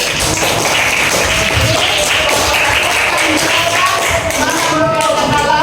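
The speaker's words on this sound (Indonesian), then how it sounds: "beri tepuk tangan untuk kelompok 1" Classroom students clapping for a group after a religious education lesson presentation, a loud, continuous patter of many hands close by, with some voices mixed in.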